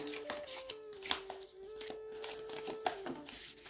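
Tarot cards are shuffled by hand, soft quick riffling and tapping bursts close up, faint and alone, with a steady tone sounding underneath.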